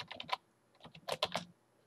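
Typing on a computer keyboard while filling spreadsheet cells, two quick clusters of close, crisp key clicks separated by a short pause, with no voice present.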